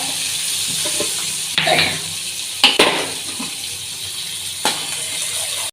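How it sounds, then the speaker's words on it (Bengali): Chickpeas fry in oil in a pan, a broad steady sizzle punctuated by three or four louder bursts as they are stirred and tossed, close and with no voices. "ছোলাটাও একটু লাল করে ভেজে নেব"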